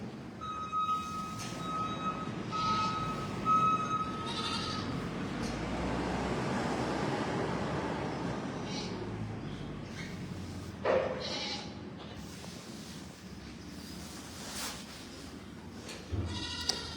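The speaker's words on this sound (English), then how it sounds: "Oh, we have got goat kids." Goat kids bleat on a farm, with scattered high cries rising over a busy outdoor background of rustling and distant traffic, some calls close and others farther off.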